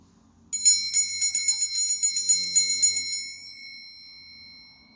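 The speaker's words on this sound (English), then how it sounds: "I like to start my day with this tone, with the bell." A bright metallic bell rings in a rapid run of about a dozen strikes, then stops and leaves a clear tone fading away.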